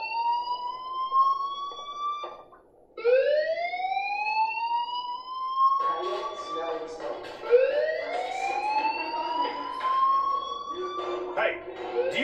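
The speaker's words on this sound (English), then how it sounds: "Hey, do you hear that fire alarm?" A fire alarm sounds in the video game Life Is Strange, a loud electronic wail rising and falling in repeated sweeping cycles, with brief pauses and a voice talking over it.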